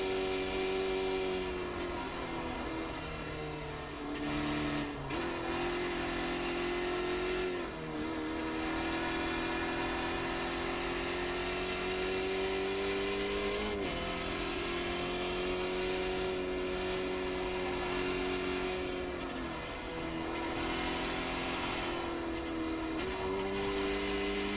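A Skip Barber race car engine pulls hard around the Nürburgring Nordschleife, its steady droning tone rising and dipping with gear changes and throttle lifts, loud and close throughout with no talking.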